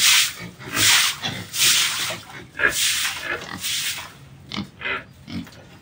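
A boar pig in its pen gives a series of loud, close, rough grunts and snorts in irregular bursts, with a few short pauses between them.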